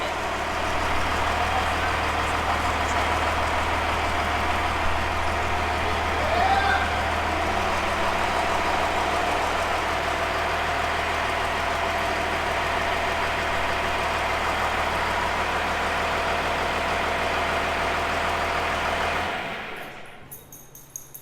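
A diesel tractor engine idles steadily at close range with a constant low drone and a faint knocking texture, and the noise stops abruptly near the end.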